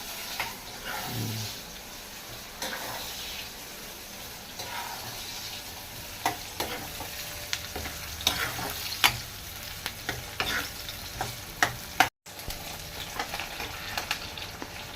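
Ginger garlic paste and onions sizzle in a pan for a brinjal and potato curry, under frequent close spoon scrapes and taps that grow busier midway, with no voices.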